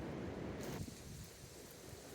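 Steady wind blowing outdoors at a cattle panel greenhouse build site, a loud continuous rushing roar with gusty buffeting on the microphone throughout and no voices.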